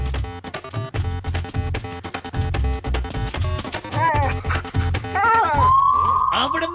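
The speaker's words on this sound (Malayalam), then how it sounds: "ഇപ്പൊ എന്റെ ഈ നായകൾ നിങ്ങളുടെ ജീവൻ എടുക്കാൻ പോവുകയാണ്. Dogs attack!" Cartoon dogs from Gattu Battu bark and yip as they charge to attack, sharp repeated barks over a busy music score, with animated voices shouting, ending in a rising whine.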